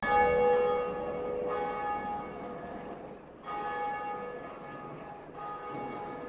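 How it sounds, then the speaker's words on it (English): The bell of awakening in Dark Souls rings out in three large, resonant strikes, each a deep metallic clang with a long humming decay, heard clearly on its own. "Having killed the Bell Gargoyles, I could now ring the first bell of awakening."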